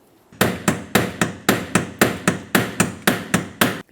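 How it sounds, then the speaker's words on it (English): A hammer strikes a small pry bar about a dozen times in a steady rhythm while removing a fuel pressure regulator on a Dodge Ram 2500, each sharp ringing clank close and loud. "continue on with a small pry bar and a hammer and just give it a couple loving bonks"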